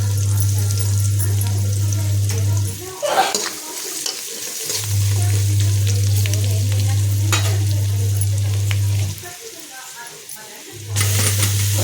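Flattened rice (poha) is stirred in a hot pan with turmeric, salt and green chillies, giving a scraping, sizzling rustle. A steady low hum drops out twice, and faint voices can be heard in the background.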